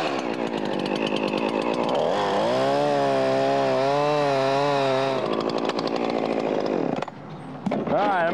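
A chainsaw roars close and steady, cutting a face notch in a tree during a natural-crotch rigging job; its pitch rises and wavers as it bites into the wood, then the saw drops to idle near the end.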